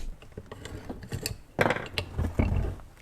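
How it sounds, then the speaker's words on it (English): A Ruger 10/22 rifle bolt is pulled back and lifted, making close metallic clicks, rattles and a sliding clack, with no one talking. "you're gonna pull it back all the way and then lift up on the bolt"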